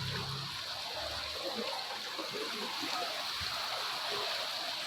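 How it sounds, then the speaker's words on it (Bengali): A waterfall in the Ajodhya hills makes a constant, full rushing and splashing roar close by that never lets up. "ঝর্ণা।"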